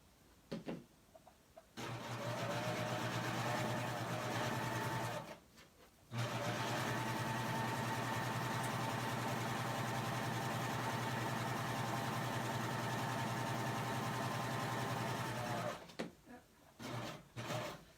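A serger stitches wired ribbon from 60-inch-wide fabric in two long bursts, a close, loud, rapid mechanical hum that starts, pauses briefly, then runs for about ten seconds before stopping, with no talking.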